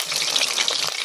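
Taro fries sizzle in hot oil, a steady close crackling hiss with small bubbling pops throughout.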